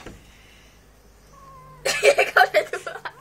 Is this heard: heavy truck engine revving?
no